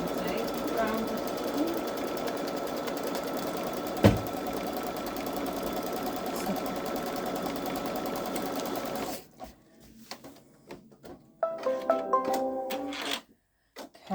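Babylock Solaris 3 embroidery machine stitching two rounds through batting, a steady loud mechanical whir lasting about nine seconds, then stopping, followed by quieter clicks and short bursts of motor noise.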